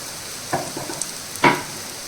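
A spoon stirs mango curry with onion pieces in a pan, giving two short scraping strokes over a soft sizzle, close and fairly quiet.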